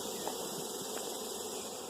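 Honey bees from a young, healthy starting hive drone in a steady, close buzz during a hive inspection, a continuous hum with no voices over it.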